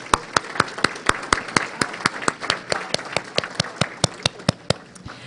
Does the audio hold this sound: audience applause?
yes